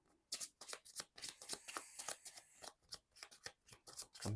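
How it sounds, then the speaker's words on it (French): A deck of Marvel Champions game cards shuffled by hand, a rapid, close run of crisp riffles and snapping card slaps lasting several seconds with no talking. "Donc, je mélange mon deck"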